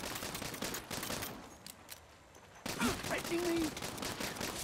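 Gunfire rattles out in rapid bursts during a Saints Row shootout, dropping away briefly before erupting again loud and close. A voice speaks over the shooting.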